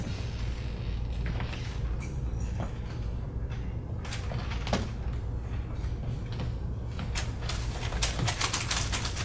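Typewriter keys clacking in uneven bursts while a case study is written out, a quiet room hum beneath the scattered strikes, with a carriage-like sweep near the end.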